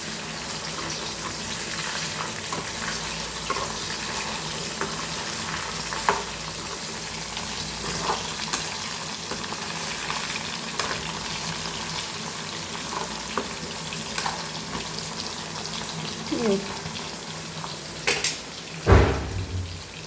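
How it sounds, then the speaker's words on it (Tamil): Steady sizzle of chicken frying for biryani fills the pan for a long stretch, with occasional scrapes and clinks of stirring and a louder clatter near the end. "அதுக்கு சிக்கனை நம்ம பிரட்டி போட்டுறோம்"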